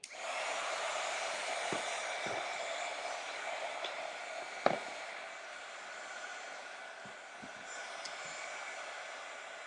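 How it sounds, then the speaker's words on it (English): A heat gun runs steadily throughout, a continuous broadband airflow roar with a few faint knocks and one sharp click partway through, no talking. "ask why the heat gun is on"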